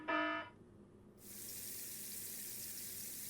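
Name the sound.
water splashing down from the ceiling, Ever17 Remake video game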